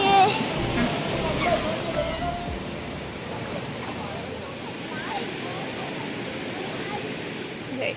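Water rushes at Vadattupara Kuthu waterfall near Cochin in a steady, broad roar. Faint voices sit low beneath the noise.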